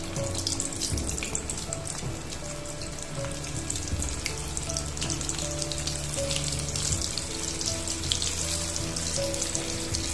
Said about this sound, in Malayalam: ഓരോന്ന് ഇട്ട് നമുക്ക് വറുത്തെടുക്കാം